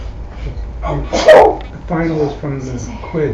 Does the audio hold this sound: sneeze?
yes